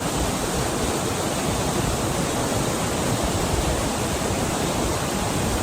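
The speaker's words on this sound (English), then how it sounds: "Behind me, there's the waterfalls and big stream as well actually, because you can see 2 lanes of waterfall, massive one, and it flows down." A massive twin-channel waterfall pouring into a big river stream, heard as a loud, steady, unbroken roar of rushing water close by, with no voices over it.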